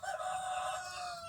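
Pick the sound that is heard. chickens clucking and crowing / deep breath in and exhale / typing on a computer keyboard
chickens clucking and crowing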